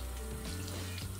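Tap water runs into a bathroom sink in a short, steady rushing stream, close and fairly loud, with no talking over it.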